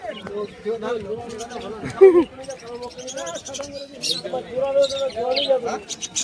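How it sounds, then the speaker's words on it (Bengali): Budgerigars chirp in quick high bursts at a busy weekly bird and pigeon market, with rabbits also on sale nearby, and their calls mix with steady nearby conversation and crowd noise throughout. "এই সাইডে আবার দেখতে পাচ্ছি কিছু বদ্রি পাখির কালেকশন"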